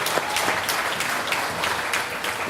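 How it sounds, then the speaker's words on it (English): An audience claps during a community speech by a politician, with dense, steady clapping that stays loud and continuous throughout. "Let's clap on that one too."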